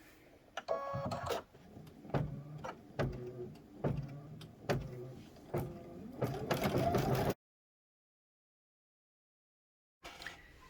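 Embroidery machine stitching a squaring stitch along a quilt border, a quick run of rhythmic mechanical pulses and whirs that stops abruptly into silence, then briefly resumes.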